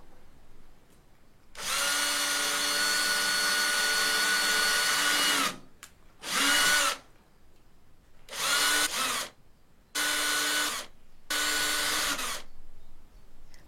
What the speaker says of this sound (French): je marque les 4 emplacements que je vais percer avant de visser ma platine